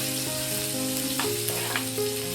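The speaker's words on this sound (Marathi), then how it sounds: "चांगली परतून घेऊया आता" Jackfruit fus bhaji sautés with cumin in a pan, a soft steady sizzle running under a sustained tonal hum, broken by a couple of brief scraping stirs; no one speaks.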